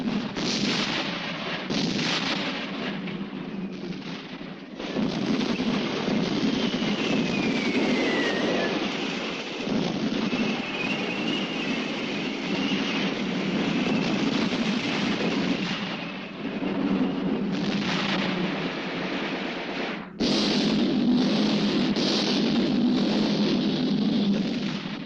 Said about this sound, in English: 4 tanks moving in fast